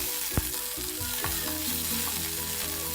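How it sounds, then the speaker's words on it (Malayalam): Cashews and raisins roast in ghee in a pan, a steady close sizzle broken by scraping stirs and a few sharp clinks of the spoon. "നല്ല നെയ്യ് ഒഴിച്ചു കൊടുത്തിട്ട് അതിലേക്ക് അണ്ടിപ്പരിപ്പും അതുപോലെ തന്നെ മുന്തിരിയും ചേർത്തിട്ടൊന്ന്"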